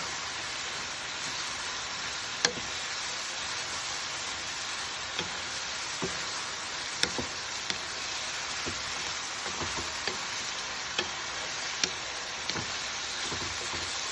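Onions frying over high heat in a venison spicy stir fry, a steady close hiss and sizzle with scattered small pops and crackles, no talking.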